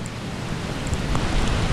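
Rain and gusting wind during Typhoon Nanmadol in Yamato, Japan: a steady, dense wash of rain noise with rushing wind that swells slightly toward the end, with no voices.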